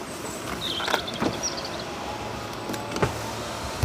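Power windows on a Mercedes-AMG car closing: a quiet, steady electric motor whine runs for a few seconds, close by, ending with soft thumps as the glass seats, with no talking.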